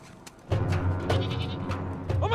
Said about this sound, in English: There's a little goat eating the wire!